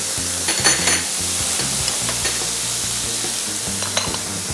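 Diced carrot and asparagus stir-fried for fried rice in a hot pan, steady sizzling with repeated scraping strokes of a spatula against the wok, close and continuous with no talk.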